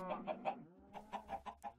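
Chickens cluck in Minecraft, a run of short, close, evenly spaced clucks rising and falling over a couple of seconds with a faint game background beneath them.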